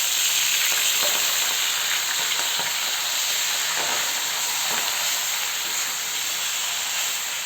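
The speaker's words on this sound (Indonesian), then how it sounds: "ini aku akan menumis sayur" Vegetables stir-fry in a hot pan with a loud, continuous sizzle and hiss, broken by occasional faint stirring scrapes; no one speaks.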